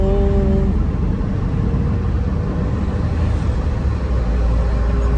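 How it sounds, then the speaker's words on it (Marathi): Continuous road traffic on the Pune to Ahmednagar road: a steady low rumble of car and truck engines, heard from inside a vehicle, with no talking. "किती घाण ट्रॅफिक, किती घाण."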